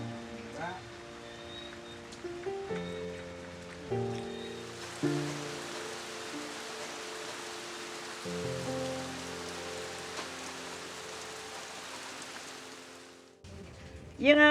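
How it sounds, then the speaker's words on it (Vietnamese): Rain patters steadily on surfaces outdoors at a home, a soft constant hiss running throughout while people talk over it in Vietnamese. "Mưa chưa vô Quân."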